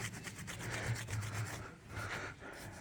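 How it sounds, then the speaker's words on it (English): Rag rubbing down freshly brake-cleaned Harley Softail brake parts on a custom chopper, a steady close scrubbing rasp that swells and eases in strokes, heard alone without talk. "Give everything a good rub down."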